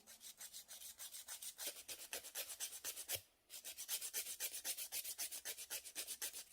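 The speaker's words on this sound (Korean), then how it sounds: "여기를 좀 더 갈 때파일을 눕혀서 갈고" Steady rhythmic rasping of a nail file shaping a coffin-shaped fingernail, quick even back-and-forth strokes close up, with one brief pause midway before the strokes resume.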